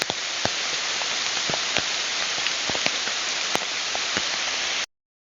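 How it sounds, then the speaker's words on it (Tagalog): Heavy rain pours down near a mountain foothill on a fishing outing in Zambales, a dense, loud, steady hiss with a few sharp drop ticks, ending abruptly. "medyo humina na yung ulan"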